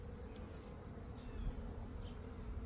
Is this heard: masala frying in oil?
no